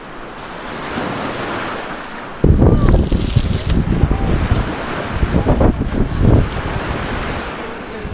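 Sea waves break on a Goa shore, a low steady wash of surf that jumps to a louder rushing crash partway through, with gusts of wind buffeting the microphone throughout.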